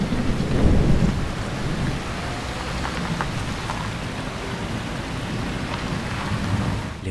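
Torrential rain pours steadily over a city street in Tehran in a film scene, with a dense, loud hiss of downpour and a low rumble of thunder early on, continuing without voices.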